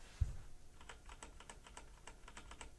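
Quiet typing on a Razer BlackWidow Ultimate Stealth 2014 mechanical gaming keyboard with 45 gram actuation switches, a soft, rapid run of keystroke clicks over faint background noise.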